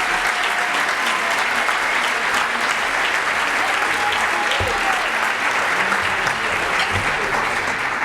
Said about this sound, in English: Let's give them all one great big round of applause as they're making their way up.